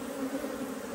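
Honey bees buzz steadily on a hive frame, a dense, continuous close hum with no breaks.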